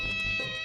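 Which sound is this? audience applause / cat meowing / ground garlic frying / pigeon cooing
cat meowing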